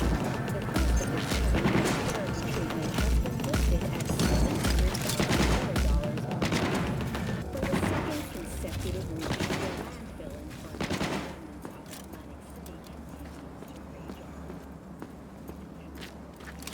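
Dense gunfire in Cyberpunk 2077 during a gas station firefight, sustained loud automatic bursts and crashes filling the first half, then thinning into scattered shots over a lingering noisy bed.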